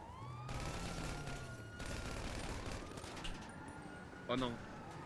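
Sustained rapid gunfire from a video game, a dense crackling fusillade running throughout with a siren-like tone, while French-speaking players talk over it.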